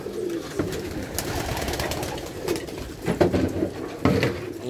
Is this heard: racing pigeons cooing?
yes